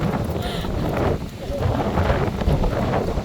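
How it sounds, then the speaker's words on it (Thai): Strong wind gusting across a grassy tent-camping field in Huai Nam Dang National Park, Mae Hong Son, a steady loud roar buffeting the microphone for the whole stretch, with a brief lull midway. "ลมแรงเกิน"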